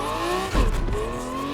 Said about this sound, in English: I hear that supercharger in here